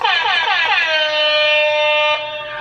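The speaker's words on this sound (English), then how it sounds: "She bought me an air horn, so you guys are probably gonna hear it a lot though." One loud, sustained blast of an air horn, starting with a warbling rise and holding steady for about two seconds before cutting off.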